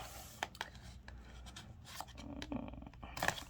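A cardboard box is torn open by hand, producing a series of close, sharp tearing and scraping bursts spread irregularly over a few seconds.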